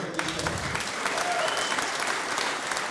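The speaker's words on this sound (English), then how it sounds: "Well-deserved round of applause there, too, for these 2 great players to make it this far." An audience at a banks pool match at the 2013 Derby City Classic claps in a steady, dense round of applause, with some crowd murmur underneath.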